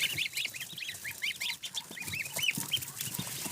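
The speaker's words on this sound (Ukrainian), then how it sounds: "Ну, от гусочки там зелено їдять." Rapid, repeated honking calls from a flock of domestic geese feeding on a farm in the morning, fairly close and continuous, over faint background rustling.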